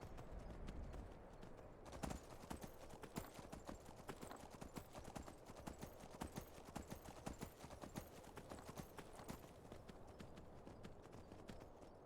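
Horse hooves clip-clop steadily in the video game Skyrim, a rapid irregular trotting rhythm close by, continuous for several seconds with faint background game ambience.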